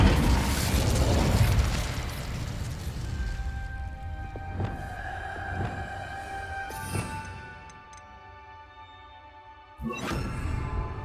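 Casting the Incendio fire spell in Hogwarts Legacy releases a loud roaring burst of flame that crackles and fades over several seconds, followed by scattered clanks and a second sharp burst near the end.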